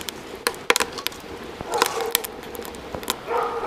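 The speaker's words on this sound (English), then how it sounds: "Listening to pooches bark." Several dogs bark in short, sharp bursts at varying distances, some overlapping, against a steady outdoor background at an off-grid cabin.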